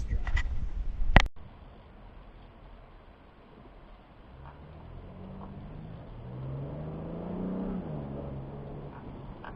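A 5th Gen Chevrolet Camaro with a cold air intake pulls away on a test drive, its engine rising from a low rumble into a steady revving drone that builds and then eases, heard from inside the car after a sharp knock at the start.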